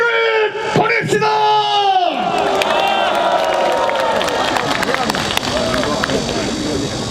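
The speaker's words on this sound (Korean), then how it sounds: "여러분, 우리 정부 당국에 큰 환호와 박수를 보냅시다." A large outdoor rally crowd of veterans erupts, with a loud amplified voice ending in the opening seconds before mass cheering, shouting and clapping take over and continue, dense and loud, to the end.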